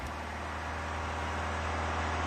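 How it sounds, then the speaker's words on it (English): Steady, droning car engine effect in a self-made game, a continuous low rumble at constant pitch with no talk over it. "And now we have car sound effect like this"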